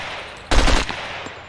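Gunfire in the video game SCUM: one sharp, loud burst of rapid shots, close by, cutting through a steady background hum, with no one talking.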